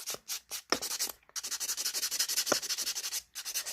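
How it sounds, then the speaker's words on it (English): A nail file works over acrylic nails on a training finger with quick back-and-forth strokes, making a close, steady, raspy scratching rhythm broken by a couple of short pauses. "I'm just smoothing everything out with this file"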